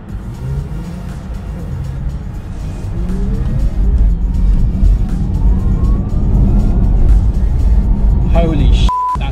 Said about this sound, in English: the acceleration straight off the line is nothing short of phenomenal